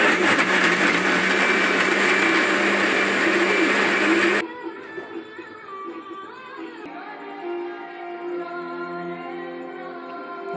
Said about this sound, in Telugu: బెల్లం ఇలా వేసేసుకొని మిక్సీ వేసుకుంటే ఆ పిండిలో కలిసిపోయింది.